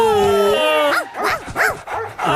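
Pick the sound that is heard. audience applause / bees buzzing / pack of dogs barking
pack of dogs barking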